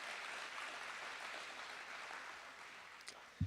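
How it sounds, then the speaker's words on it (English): An audience at a grant competition night applauds for Mix 104 with steady, fairly faint clapping that fades slightly toward the end before a brief thump. "give Mix 104 a round of applause"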